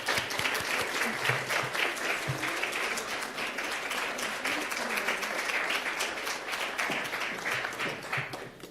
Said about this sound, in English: Please put your hands together for Assistant Secretary Evan Ryans.